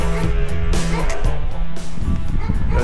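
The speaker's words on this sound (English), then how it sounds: "There are definitely too many dogs here." Dogs bark repeatedly along a rural pilgrimage trail in Spain, sharp, close yaps in an irregular burst over continuous outdoor noise.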